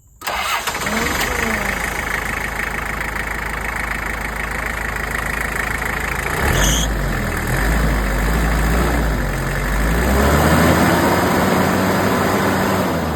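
The 2.4-liter four-cylinder diesel engine of a 1989 Toyota Land Cruiser LJ70 turns over and settles into a steady, clattering idle close by, rumbling on without a break.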